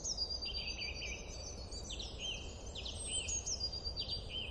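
Faint birdsong, a few thin high chirps and short warbling phrases, drifts over a steady outdoor hum of distant traffic and city noise, with no one speaking.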